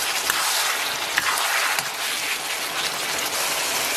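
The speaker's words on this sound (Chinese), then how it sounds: "把西红柿炒出沙，咱把鸡蛋下到锅中" Beaten eggs hit a hot wok of stir-fried tomatoes over high heat, setting off a loud, steady, rain-like sizzle that continues without a break, close up and with no voices.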